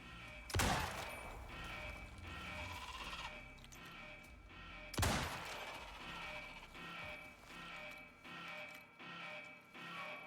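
Gunfire in a video game, two sharp broadband blasts about four seconds apart standing out over a steady bed of game ambience with faint ticking and creature-like calls.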